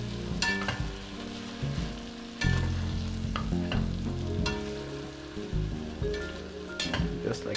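Pulled pork in adobo sauce sizzles loudly in a pan on medium heat while being stirred, with scraping strokes and intermittent utensil knocks over a constant frying crackle.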